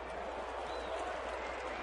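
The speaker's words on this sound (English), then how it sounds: "Oohs and ahs from this crowd." A baseball stadium crowd at a St. Louis at Arizona game reacts to a pitch, a broad, sustained rumble of murmuring voices and scattered cheers heard from within the stands.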